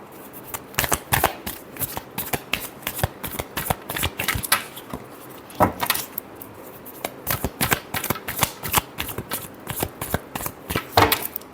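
A deck of tarot cards is shuffled by hand, with quick, close, crisp riffles and taps repeating in uneven bursts. There is no speech.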